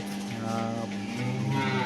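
A cow on a farm where a cow has just calved gives a long, loud, close moo that rises and falls in pitch over about two seconds, heard on its own with no talking.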